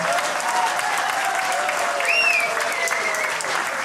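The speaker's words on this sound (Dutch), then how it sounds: "Ik wil een keihard applaus voor Emile en Jeanette." Steady, dense applause from an audience at an outdoor acoustic concert at Kleintje Woodstock in 2021, a few whistles cutting through the even clapping throughout.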